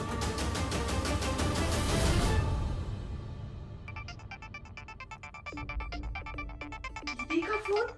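A phone rings with a melodic ringtone, a bright repeating tune that follows a louder burst of dramatic music, then plays on alone at moderate volume.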